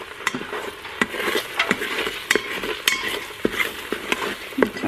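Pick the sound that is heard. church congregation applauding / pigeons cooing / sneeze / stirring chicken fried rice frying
stirring chicken fried rice frying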